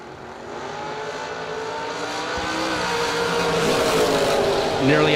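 A 1964 Chevy II and a 1968 Camaro drag race, their engines a loud, rising rumble that builds steadily as they accelerate down the strip, with an announcer talking over the noise.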